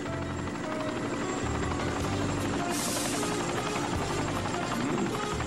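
A helicopter in the Transformers Armada cartoon drones steadily nearby, its rotor thrum and engine whine continuous and loud throughout with no talking.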